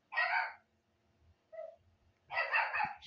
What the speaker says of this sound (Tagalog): Aso ko yun guys.